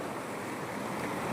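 Water flows out of a small cave in a natural setting as a continuous broad rushing wash, steady and moderately loud, with no voices.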